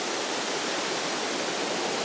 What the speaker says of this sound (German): Hier kommt richtig schön eiskaltes Wasser runter, so ein richtig toller Wasserfall.